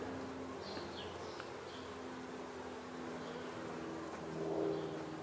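Honey bees buzz around a hive entrance where guard bees are confronting incoming bees, a soft, continuous hum with a few louder passes close by.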